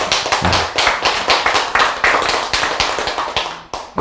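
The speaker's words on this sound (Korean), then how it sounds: "박수." Audience in a church sermon clapping in a brisk, steady rhythm, with loud, close, evenly spaced claps and no voices over them.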